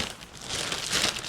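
Brief, loud crinkling of plastic wrapping being handled and pulled open up close, lasting about a second.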